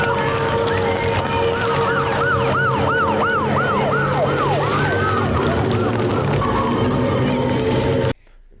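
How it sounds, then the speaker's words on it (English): A loud police siren wails in rising and falling sweeps, close by and continuous, over the rumble of traffic, then cuts off abruptly. "we've seen the police sirens on the cop car there"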